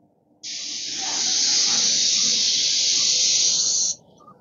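A paint sprayer fitted with a 310 fine finish tip coats a shaker-style door, giving one steady, loud hiss that starts abruptly, holds for about three and a half seconds, then cuts off.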